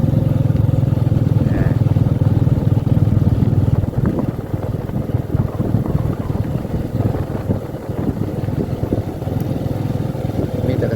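A motorcycle engine drives a work machine, running as a loud, steady droning hum that is near and continuous throughout, with a slight dip in level partway through.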